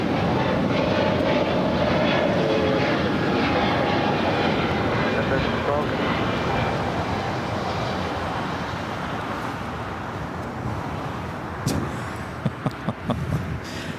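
Airbus A321neo jet taking off from runway 25 right at LAX, a broad sustained engine roar that stays loud and steady before slowly easing, with faint talk and a few sharp clicks near the end.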